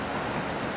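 A waterfall rushes in a steady, unbroken roar of white-noise water, close and constant throughout, with no voices heard.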